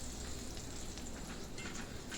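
Melted butter sizzles steadily in a pan while a shepherd's pie is cooked, an even, close hiss with no talking over it.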